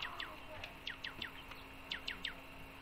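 Bright, quick chirping bird calls from a bird simulator video game repeat in small bursts, fairly faint, over a low steady background hum.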